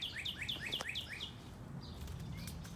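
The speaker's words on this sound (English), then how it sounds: "the robins are really singing this morning" Robins singing in a morning garden, a run of quick repeated high chirping phrases in the first half, then fainter calls over a low steady background.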